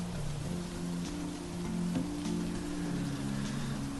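Steady rain falls in the farming video game Monster Harvest, a continuous soft hiss of drops that stays even and unbroken, with a low background music drone beneath it and no voices.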